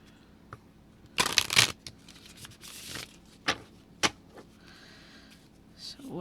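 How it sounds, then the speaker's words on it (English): A deck of tarot oracle cards is shuffled nearby, with a sharp burst of riffling followed by several softer, separate card snaps and taps in an otherwise quiet room. "One more shuffle."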